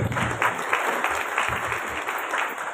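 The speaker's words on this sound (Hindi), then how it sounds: "भाई साहब के लिए जोर से ताली बजाएंगे" A church congregation applauds loudly for a man, a dense, steady burst of clapping filling the room for a few seconds.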